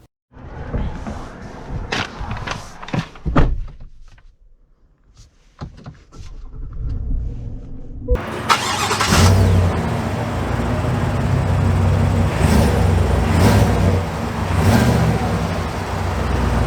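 A 2023 GMC Sierra 1500 Denali pickup with a 6.2L V8 sets off: first a few clicks and knocks with a quiet pause, then a sudden steady engine and road rumble that stays loud and continuous to the end.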